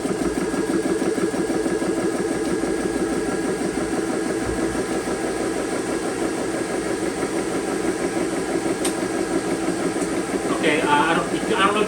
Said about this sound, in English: compressors are loud